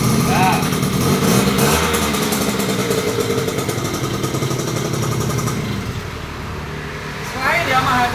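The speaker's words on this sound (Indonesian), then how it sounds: "Nah, ini motor hidup jalan loh ya. Bukan motor pajangan." A classic Yamaha 75 motorcycle engine runs steadily at idle for several seconds, close and fairly loud, with a brief dip near the end before picking up again; people talk over it.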